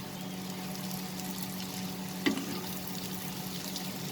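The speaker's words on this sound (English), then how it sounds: "Increase the flame and saute it for a minute" Karela and potato sabzi sautéing in a pan over a high flame, giving a low steady sizzle with one sharp clank of a spatula midway.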